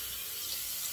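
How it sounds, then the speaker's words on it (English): Tap water runs steadily from a faucet for a brief moment as a head is rinsed and wetted before a head shave, a soft continuous splashing stream with no talking. "Now we'll rinse off. We'll wet the head again and do a head shave"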